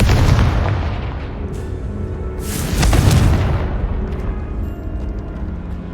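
Confringo blasting spell going off in Hogwarts Legacy, a loud rumbling explosion that swells around the middle and keeps booming for several seconds, alone without talk.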